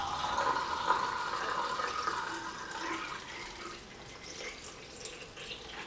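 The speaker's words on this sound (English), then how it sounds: "you wash the funnel" Running water rinses a funnel after film Blix is poured during C-41 color processing, a steady splashing wash that stays fairly even and close throughout, with no talking.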